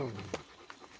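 A dog pants in quick, soft breaths close by, with someone talking over it.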